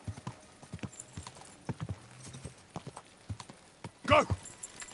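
Horse hooves trotting in Kingdom Come: Deliverance 2, with a close, regular clip-clop of distinct hoof strikes and a brief whinny or snort near the end.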